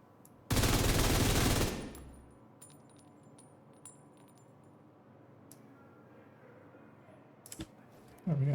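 A burst of rapid gunfire from the Umbra weapon in a shooter game rattles loudly for about a second, then gives way to quiet with sparse clicks and small impact sounds, and a final sharp shot.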